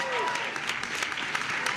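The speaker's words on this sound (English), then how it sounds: "the people around him are clapping" A crowd applauds at a bill signing, with steady clapping from a room of people heard alongside talk.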